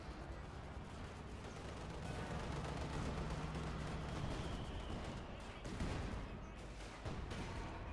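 Rapid rocket barrage in Company of Heroes, a quick volley of overlapping launches and explosions rumbling dense and fairly loud, swelling in the middle and near the end.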